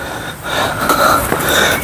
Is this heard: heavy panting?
yes